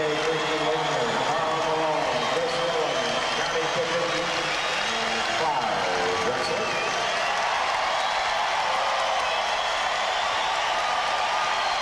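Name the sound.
basketball arena crowd applauding Clyde Drexler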